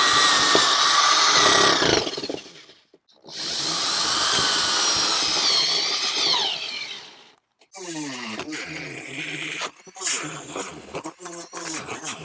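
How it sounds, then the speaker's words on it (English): A Dremel rotary tool cuts holes in a cable gland cover, sounding as loud high-pitched whining bursts that start and stop, with a rougher grinding stretch at the end. "I'll probably have to Dremel out a whole area here"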